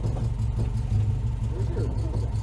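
A Honda Civic that has broken down, its engine revved in a garage with the e-brake on, giving a steady rough low drone under people talking.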